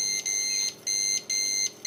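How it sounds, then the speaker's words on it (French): Kitchen alarm beeping in a home kitchen while sugar syrup cooks for a passion fruit cake, a loud electronic tone pulsing in four repeated bursts with short gaps, heard alone. "Pardon pour l'alarme."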